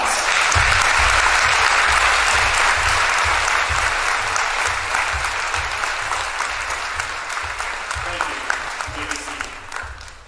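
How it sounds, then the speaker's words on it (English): Sustained applause fills a high school graduation ceremony at Caston, a large audience clapping loudly and steadily before gradually thinning toward the end, with a few scattered sharper claps. "Let's give everybody that's standing a big round of applause."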